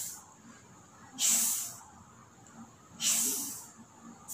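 A voice imitates a snake's hiss twice, each a sharp breathy hiss of under a second, with a quiet gap between.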